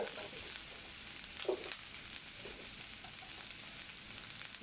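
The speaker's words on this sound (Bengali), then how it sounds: "ভালো করে কষিয়ে নিলাম।" Spices and ground coriander sizzling while being sautéed in a pan for a stuffed pointed gourd dish, a steady close hiss of frying with occasional faint stirring scrapes.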